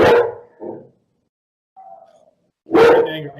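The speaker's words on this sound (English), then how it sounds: "Even the dog, and the dog agrees." A dog barks nearby in two loud bursts, one at the start and one near the end, with a short whine between and quiet gaps around them.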